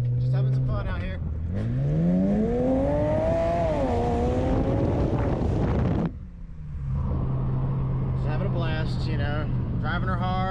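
A BMW 335xi with a transfer case fault is driven hard, its engine climbing through a loud rising rev, briefly dropping off during a shift, then pulling again under steady acceleration, with someone talking over the engine throughout.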